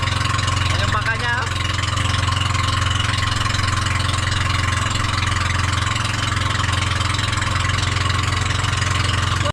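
A steady, low boat engine idles continuously nearby on a Filipino bangka, a constant rumbling drone with a brief higher tone early on, with voices faintly mixed in.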